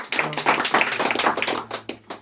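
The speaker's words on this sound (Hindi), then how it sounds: "जोरदार ताली सर के लिए।" A group meeting audience breaks into brisk, dense clapping that rises quickly and runs continuously, with a few stray claps trailing off near the end and no voices over it.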